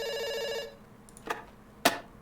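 A telephone ringing tone sounds through the line for under a second, a steady buzzing ring, followed by quiet and two sharp clicks like the call being cut off.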